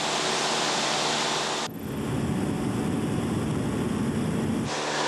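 A light airplane's engine climbing toward a cruise altitude of about 3,500 feet fills the cabin with a loud, steady broadband drone that changes tone partway through, then shifts back near the end.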